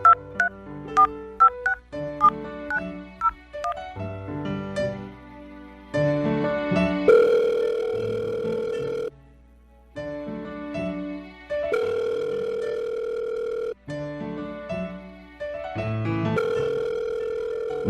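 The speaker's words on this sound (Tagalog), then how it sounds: "tatawagan ko na." Telephone tones fill the span: rapid keypad dialing beeps in quick bursts alternate with long steady dial-tone or ringback stretches, loud and close with brief silent gaps and no voices.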